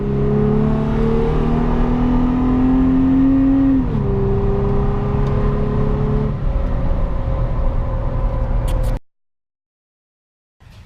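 A Toyota Tacoma fitted with an S&B cold air intake is floored, its engine droning loud and steady with a rising whine that dips at a shift and climbs again before cutting off abruptly into silence.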